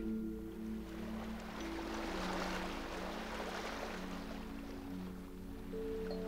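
Ocean waves wash in a continuous, soft roar, swelling gently and easing back, faint and distant under a steady low hum, with no voices.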